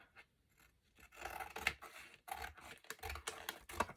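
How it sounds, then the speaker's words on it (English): Scissors trim the edge of fabric for a prayer journal pouch, making close, quiet snipping and rasping cuts in short bursts separated by brief pauses. "So now I am going to trim this a bit"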